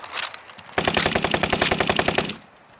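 Sustained rapid bursts of automatic gunfire from a burst rifle in Call of Duty: Warzone, loud and close, following a brief quieter sound at the start.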